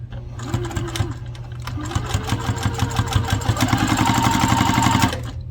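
A Juki TL2000Qi sewing machine stitches with a steady, rapid mechanical chatter and motor hum, running continuously and fairly loud for about five seconds before stopping abruptly.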